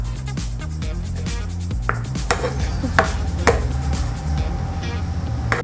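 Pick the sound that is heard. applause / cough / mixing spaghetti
mixing spaghetti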